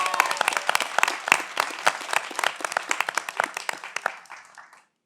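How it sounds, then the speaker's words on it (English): An audience at a live startup pitch competition event claps and cheers, a dense burst of applause that holds steady, then thins and tapers to silence after about five seconds. "one more cheer for Josh as he logs on"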